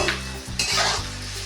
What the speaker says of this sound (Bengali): পেঁয়াজটা আমি লাল লাল করে ভেজেছি